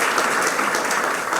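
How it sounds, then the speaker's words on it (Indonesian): Congregation clapping together during an Indonesian church worship service, a dense, steady wash of applause filling the room for a brief moment with no one speaking over it. "Beri tepuk tangan dulu buat Tuhan Yesus."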